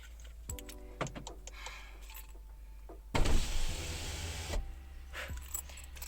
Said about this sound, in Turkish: Camları açacağım.